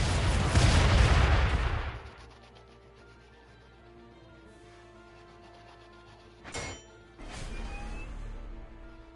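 Gunfire during a jungle battle in Front Mission 2 Remake, a loud heavy blast at the start followed by quieter ambience and two sharper distant shots later.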